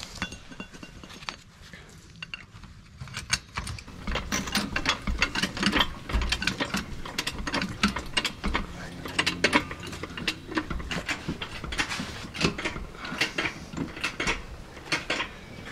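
A hydraulic floor jack is pumped to lift a car, giving a run of rapid metallic ratcheting clicks and clanks that starts after a quiet moment and continues close and steady.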